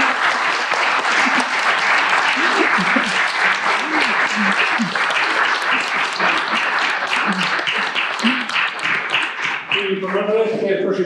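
An audience at a cultural talk in an athenaeum hall gives sustained, dense applause for the speakers, steady and full throughout with voices faintly underneath, then tapering at the end.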